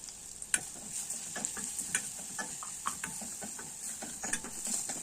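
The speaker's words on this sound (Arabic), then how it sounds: "وهنشوح الثوم يا دوبك حاجة بسيطة كده لحد ما يفك من بعض" Minced garlic sautéing in a pan, with a soft sizzle beneath frequent scraping clicks of a utensil stirring, close and fairly quiet, irregular taps throughout.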